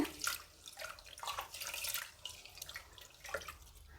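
Water splashes and trickles in uneven bursts, pouring into a metal pressure cooker holding washed rice for pongal up close, with no voices.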